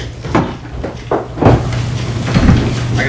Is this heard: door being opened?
yes